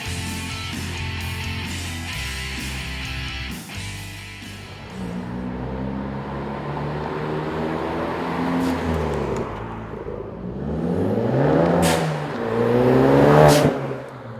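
A 2016-20 Ford Focus RS with a CP-E Exhale blow-off valve kit and black TiAL Q valve revs repeatedly from idle. The engine note rises and falls in loud close sweeps, with sharp venting bursts between revs.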